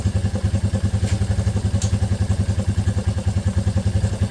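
A Suzuki LT230E ATV engine idles roughly up close, its fast, steady thumping pulse loud and uneven, with a couple of brief clicks over it.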